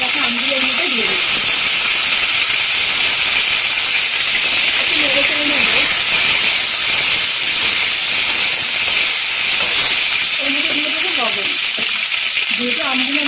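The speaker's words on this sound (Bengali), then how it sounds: "তেল গরম হয়ে এসেছে, ভাজা হয়ে গেছে, আমগুলো এর মধ্যে দিয়ে দিচ্ছি।" Raw mango pieces sizzle in hot mustard oil tempered with dried red chilli, fennel and mustard seeds, a loud steady hiss close by, with a voice speaking now and then over the frying.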